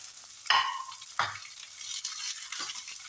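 Onion, ginger and green chili fry quietly in a pan under a faint hiss, broken by three short bursts of stirring clatter.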